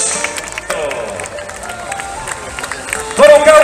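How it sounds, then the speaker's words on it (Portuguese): Festival audience applauds a singer and guitarist at an evening serenade during town festivities in Arcos de Valdevez, Portugal, a continuous crowd clapping mixed with cheering and a voice over a loudspeaker, growing louder near the end. "Um grande aplauso para o Miguel Fernandes."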